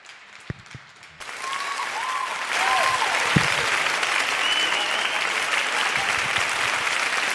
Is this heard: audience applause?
yes